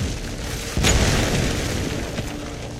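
A keep structure collapsing in Heroes of the Storm, one sudden deep booming explosion that rumbles and slowly fades over steady game background noise.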